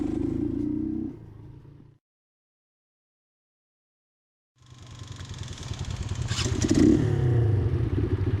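A custom-built Keeway CR152 scrambler motorcycle runs on a New Zealand road, its single-cylinder engine buzzing steadily, then cutting out into silence before returning louder with revving and wind rush.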